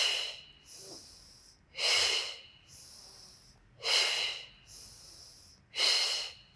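Sharp, breathy exhales come at a steady pace during a Pilates core workout for beginners. Four strong puffs of air alternate with softer inhales, close and clear, with no talking.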